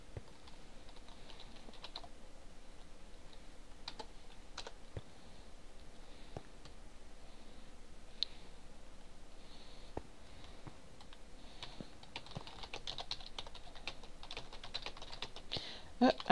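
Steady typing on a computer keyboard, fast clicking keystrokes running throughout at close range with a few louder taps, played alongside Minecraft on a theme-park server with faint background sounds.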